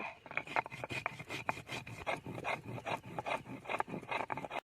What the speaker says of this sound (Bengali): নিয়ে নিলাম জিরে মরিচ এবার এটাকে সুন্দরভাবে একটু অল্প একটু করে জল দেবো দিয়ে আর বেটে নেব